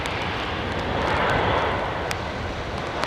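Airliner jet engines roaring during a go-around over runway 27R at London Heathrow, a loud continuous broadband rumble that swells slightly mid-clip, heard from the ground with no talking.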